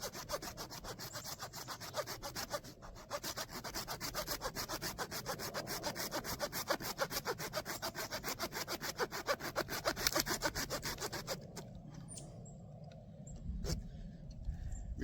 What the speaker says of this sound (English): take the lower legs and cut them off with a saw